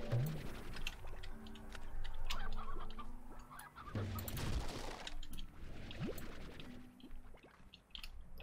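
Hens cluck in the Slime Rancher video game, a loose, overlapping patter of fowl calls running steadily through the whole stretch at moderate level, with game sounds underneath.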